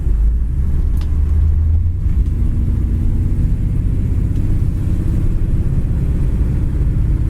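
A 1956 Mercury's engine drones steadily from inside the cabin at about 50 mph, a deep continuous rumble with road noise, no talking.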